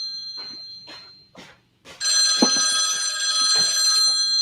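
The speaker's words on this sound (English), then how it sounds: "he's got that old ass ringtone to make it feel like an old timey phone" An old-fashioned telephone ringtone rings out loud and close, a steady bright bell-like tone sustained for the last half of the clip after a few faint soft sounds.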